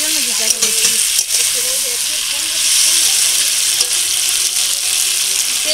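Chicken curry frying in oil in a pan, a loud continuous hiss and sizzle with occasional faint pops, close up, with a voice briefly audible underneath.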